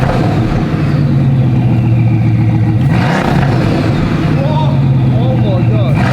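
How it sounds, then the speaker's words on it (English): A Bugatti's exhaust rumbles loud and close, with a deep engine note that rises in a couple of revs before settling back, steady and powerful throughout. "Let's hear what this exhaust sounds like."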